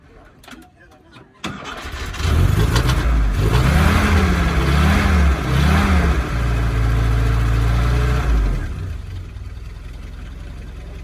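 A car engine cranks and catches on a cold start, then runs with a steady low rumble and a few revs that rise and fall for several seconds before easing off. No one speaks over it.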